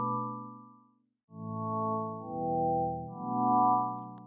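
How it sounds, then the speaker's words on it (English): Dry sine-wave synth chords play in FL Studio with all effects off, pure smooth tones held in a few successive chords separated by a brief silence, loud and close with nothing else heard. "if I turn off all of my effects that I've added to the sine chords, it sounds like this"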